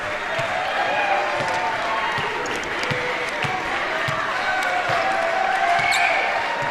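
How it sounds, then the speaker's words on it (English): Augustana Vikings fans cheer in King Arena at the close of a men's basketball win over Wheaton, a broad, steady crowd roar with scattered claps and ball bounces, heard at a distance under some faint talk. "That's the Vikings cheering on their team as they take down the Thunder here in King Arena"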